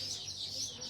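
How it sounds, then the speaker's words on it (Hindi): Birds chirping steadily outdoors on a prayer mountain, a bright continuous twittering at moderate distance with a faint murmur of voices underneath. "बहुत ज्यादा चहचहाने की आवाज आ रही"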